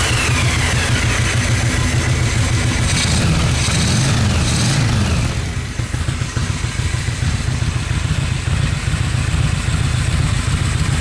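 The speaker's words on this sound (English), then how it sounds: "Got a nice staccato kind of idle there" A Yamaha XV1000 V-twin motorcycle fitted with a single carburetor idles close by with a loud, lumpy staccato rhythm, briefly revving before settling back to a steady uneven idle.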